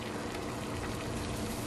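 A pot of water at a rolling boil with crab oil added bubbles steadily, a soft, continuous churning hiss at close range.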